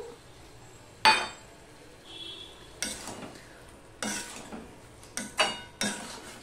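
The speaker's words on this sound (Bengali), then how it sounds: "ধনেপাতাটুকু দিয়েও আমি মিশিয়ে নিলাম।" Flat bean curry in a pan being stirred after coriander leaves go in: a few separate metallic clanks and scrapes of a spoon against the pan, close by, with quiet gaps between them.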